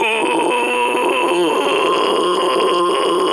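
Overcompressed false chord scream from a metal vocalist, a strained, choked growl held for several seconds with rough, buzzing texture and little clear pitch, loud and close with no normal speech.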